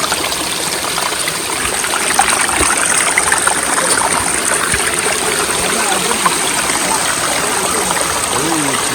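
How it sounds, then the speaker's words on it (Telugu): Water running down from a forest hill near Srikalahasti pours steadily into a small pool, a close, continuous splashing rush with no breaks, and voices faintly present beneath it. "వాటర్ అంటే మనకు పైనుంచి వస్తున్నాయి, కొండ పైనుంచి వస్తున్నాయంట వాటర్"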